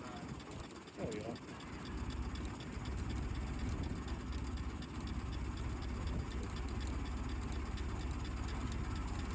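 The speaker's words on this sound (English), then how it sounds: "all have authentic Model T engines" A 1914 Ford Model T engine runs steadily with a continuous low rumble at close range, a brief clatter near the start, then a sustained loud drone.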